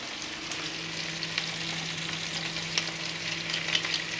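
Onion and two cloves of crushed garlic frying in a pan, a steady close sizzle with occasional stirring clicks and no talking.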